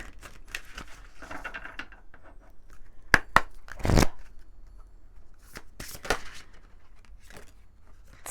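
Oracle message cards being shuffled and drawn by hand, soft papery riffles and slides broken by a few sharp snapping flicks near the middle, close and fairly quiet with no talking.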